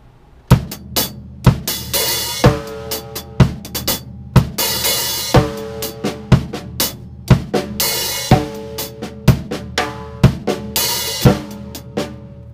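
Jazz drum kit groove with cymbal quarter notes over a 3-against-2 bass drum hemiola, sharp regular hits with washy crashes recurring, played close and alone without talk.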